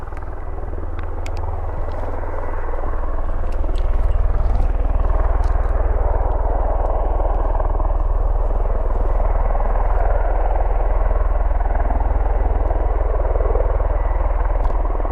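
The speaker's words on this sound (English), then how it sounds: "can you hear that sound? That's why I was nice and quiet, because taxiing out literally right now, we should see there's an osprey" A V-22 Osprey tiltrotor taxis at RAF Mildenhall, its deep, continuous rotor and engine rumble filling the air at moderate distance, growing slightly louder after a few seconds and holding steady with faint clicks over it.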